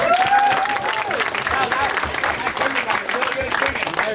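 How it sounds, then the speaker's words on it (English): Audience applause at a live comedy improv show, a steady wash of clapping from a crowd filling the whole stretch, with some voices mixed in. "Round of applause for..."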